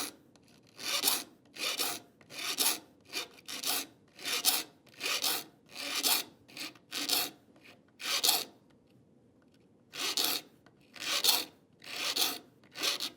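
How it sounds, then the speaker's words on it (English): A saw file rasps across the teeth of a hand saw being sharpened, in steady rhythmic strokes about one per second, close and crisp, with a short pause before the filing resumes. "I have the angle where the saw file is sloping towards the toe of the saw, just that little bit"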